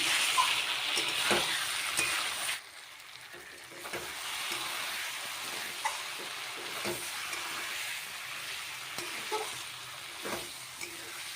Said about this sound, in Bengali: ভালোভাবে নেড়ে নিচ্ছি।